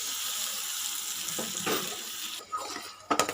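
Ginger garlic paste frying in hot oil as tomatoes are added for an egg pulusu curry: a steady bright sizzle, then a sudden drop followed by a few close clatters and splutters.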